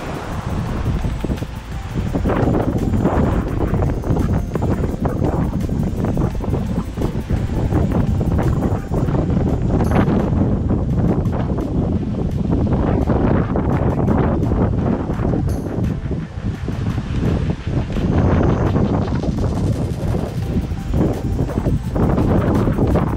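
Strong wind buffets a sailboat at sea, a loud, constant roar with gusty microphone rumble and rushing water underneath, lasting the whole time without a break.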